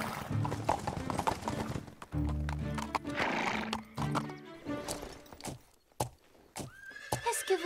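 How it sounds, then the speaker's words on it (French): Young cartoon horses whinny and neigh close by amid brisk clip-clop hoofbeats of trotting, with bursts of music and a voice speaking between the calls. "Viens vite, regarde les petits chevaux!"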